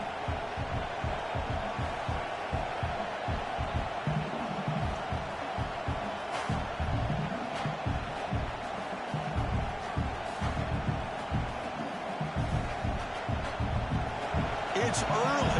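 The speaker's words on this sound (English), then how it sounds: "this crowd is fired up. Listen to this noise here." Roaring college football crowd noise inside the NCAA 26 video game, UCLA at Wisconsin, a dense continuous rumble with thumping beats and occasional sharp bangs.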